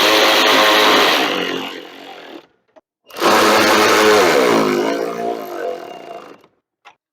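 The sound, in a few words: tightening six bolts on an electric radiator fan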